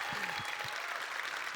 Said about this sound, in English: Please give him a round of applause to Doug Chiang.